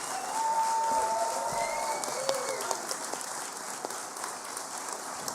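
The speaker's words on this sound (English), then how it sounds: "A big round of applause to the people who helped make SSP a reality" A crowd at a closing ceremony applauds steadily for the people who helped make SSP happen, dense clapping filling the room from start to finish with a few sharper individual claps, plus a brief whistle near the start.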